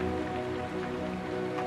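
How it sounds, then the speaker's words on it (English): Steady falling rain, an even, continuous patter with a soft hum underneath, unbroken and alone with no voices. "Let the steady, unhurried rhythm of the falling rain wash away the remaining tension in your chest."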